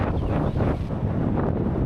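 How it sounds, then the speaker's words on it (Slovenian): Strong bora wind roars steadily across the microphone while cycling uphill on the steep Predmeja climb above Ajdovščina, a loud continuous buffeting rumble with no speech. "Praktično med vožnjo je zelo težko karkoli povedati, ker toliko veter šumi"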